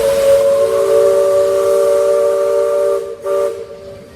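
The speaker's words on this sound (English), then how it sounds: "That is the whistle of the Liberty Bell." Loud, sustained steam whistle of the Liberty Bell steamboat on the Rivers of America at Disneyland, blowing a steady multi-tone chord for about three seconds, then a brief break and a second short blast.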